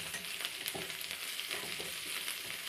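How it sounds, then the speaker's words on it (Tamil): Onions sauté in a pan as part of a mushroom curry, giving a steady close sizzle and crackle with faint stirring scrapes. No one speaks. "இப்போ பாருங்கள், வெங்காயம் நல்லா வதங்கியிருக்கு."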